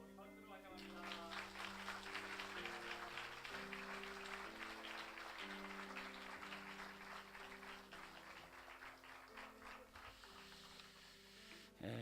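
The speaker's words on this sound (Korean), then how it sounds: "우리 박수로 환영합니다" A church congregation applauds newly baptized members during an afternoon baptism service, steady applause filling the room over sustained, stepping musical chords for the whole stretch.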